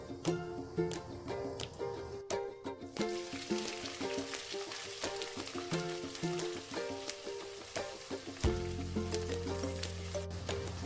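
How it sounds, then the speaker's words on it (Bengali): Chopped onions frying in hot white oil with whole garam masala, a soft steady sizzle with light crackles and occasional stirring clinks, faint and continuous. "এতেই কুচনো পেঁয়াজগুলো হালকা করে ভেজে নেব।"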